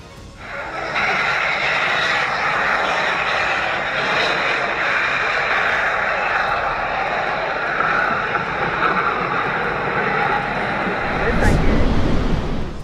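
A loud, steady roar of airplane engines fills the whole stretch, rising in a rumbling surge near the end, from a plane that landed gear-up and slid into the grass at Baltimore.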